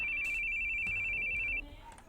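An electronic phone ring from the video game The Boogie Man sounds as a steady bright tone for about a second and a half before cutting off.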